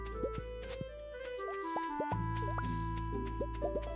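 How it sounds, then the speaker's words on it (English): Ducks splash into water in the farming game Stardew Valley, a few soft plops and drips scattered over steady game music and ambient tones, fairly faint. "I just heard the ducks jump into the water."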